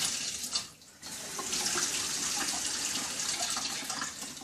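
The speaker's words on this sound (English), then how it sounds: "Turn on the water for the third" Water runs from a kitchen tap to rinse a mushroom, a steady close hiss and splash that briefly dips before flowing continuously.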